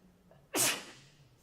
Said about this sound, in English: Getting ready to sneeze, so excuse me.